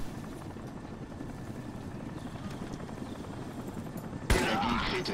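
Helicopter flying in the video game Crysis: a continuous rotor chop and engine drone that grows louder near the end with a sudden burst of harsher noise, no speech over it.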